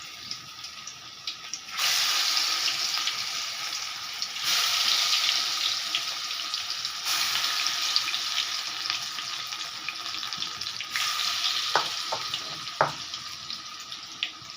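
Small fritters of shrimp heads and ground red lentils frying in hot oil, a dense steady sizzle that swells as batter drops in, with a few light utensil clicks near the end, close and without talk.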